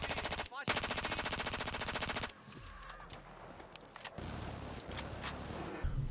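Rapid bursts of automatic rifle fire from a Battlefield 4 match, with recoil control, rattle out in fast rhythmic volleys, then give way to scattered single shots and distant combat noise.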